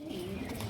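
Pigeons coo low and soft in a short, faint murmur at a home loft.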